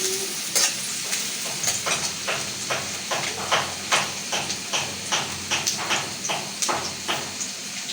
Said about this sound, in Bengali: পেঁয়াজটা আমি লাল লাল করে ভাজিয়ে নেব